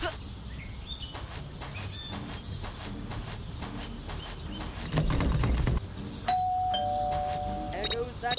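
A doorbell rings in the Scary Teacher 3D video game, with a sustained chime near the end over busy game sounds and footsteps, and voice-like sounds are present.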